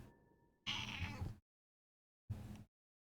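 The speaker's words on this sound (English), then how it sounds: "just pet the in-game kitty cat" A cat in the video game Dragon Age: The Veilguard gives two clear, close meows. The first is longer and plaintive, then a short pause before a brief second one.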